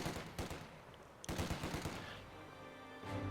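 Machine gun fire in Company of Heroes 2, with several rapid bursts of rattling shots in quick succession, fairly faint and set against battle noise.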